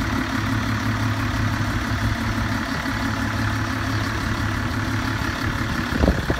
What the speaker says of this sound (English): MAN engine driven through a Voith 4-speed automatic gearbox.